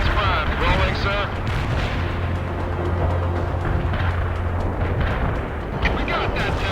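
Tank main gun firing amid a dense World in Conflict battle, heavy booming blasts over a constant roar of combat noise, with voices talking over it.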